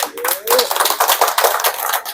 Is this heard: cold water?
no